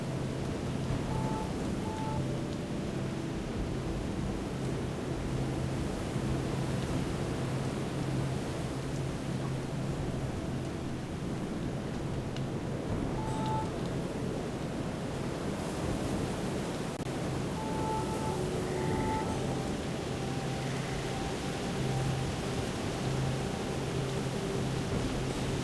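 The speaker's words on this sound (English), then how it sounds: "I can hear all this water in the background, but it's just not there." A steady, unbroken wash of running water in the video game Antichamber fills the scene, constant and even in level with a faint low hum and occasional soft tones underneath.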